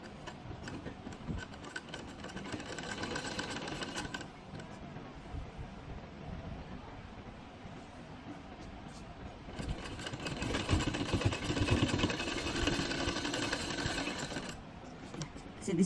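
A sewing machine stitches cloth for lace on a dupatta, running in steady mechanical bursts with a quieter pause in the middle before stitching resumes, close and moderately loud.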